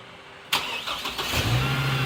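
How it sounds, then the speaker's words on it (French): A car engine is started on a test of the vehicle's charging circuit and alternator: a sudden crank catches and settles into a steady, close idle that builds slightly toward the end. "On remet le véhicule en route."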